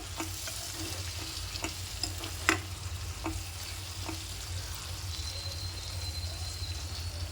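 Brinjal (eggplant) pieces frying in an uncovered pan, a steady close sizzle with scattered pops and a few sharper crackles throughout, no voices.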